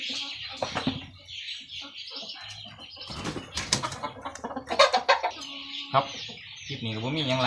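Chickens cluck and flap their wings on a Thai backyard farm, busy overlapping poultry calls and wing flurries at moderate distance, with a voice speaking briefly near the end.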